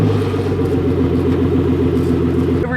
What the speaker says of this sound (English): Cold start on a Pagani Huayra Roadster.